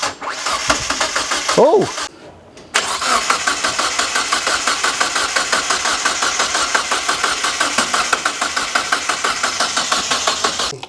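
A Mazda RX-5 turbo project car's engine cranks with a brief rising whir, pauses, then catches and runs loud and rough with a rapid steady pulsing beat. A voice briefly exclaims near the start.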